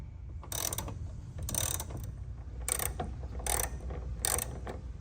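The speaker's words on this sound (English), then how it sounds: "if you use a ratchet, a 3-inch extension, and a 14mm socket" A ratchet with a 3-inch extension and 14mm socket loosening the cowl nuts on a Honda S2000, about five quick bursts of close, crisp clicking separated by short pauses.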